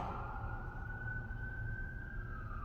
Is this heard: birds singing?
no